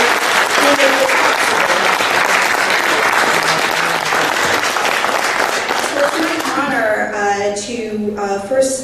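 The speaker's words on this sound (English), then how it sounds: "So I want to give a round of applause not just to our runners, but to the families" Sustained applause from an audience at a staff awards ceremony honoring marathon runners and their families, loud and steady for most of the span before thinning out as a voice begins speaking over the tail end.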